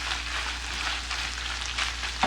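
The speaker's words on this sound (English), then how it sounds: "see our meat here, it's starting to really, really cook itself in here." Seasoned carne asada meat sizzles steadily in a pan for taco filling, a dense, close frying hiss that holds throughout with a brief sharper crackle near the end and no talking.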